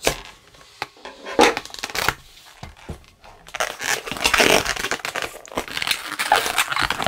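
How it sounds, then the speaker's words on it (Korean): Scissors snip through the knotted end of a latex balloon while making a balloon-art white bear, heard as close, crisp crinkling and cutting noises with rubbery rustles, loud and alone. "매듭 부분은 가위로 잘라주시고요."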